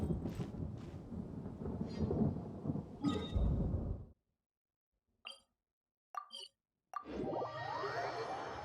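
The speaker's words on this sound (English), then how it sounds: "The storm has passed." A thunderstorm in the video game Genshin Impact rumbles and crackles with dense rain-like noise for several seconds, then cuts to near silence broken by a few short game sound chimes before the storm noise returns.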